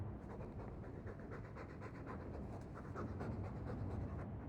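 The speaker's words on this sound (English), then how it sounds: "All that noisy dog breath, day in, day out, make him stop." Steady, continuous dog panting from a hound in Dragon Age II, close and even throughout with a dense breathy texture and no other sounds over it.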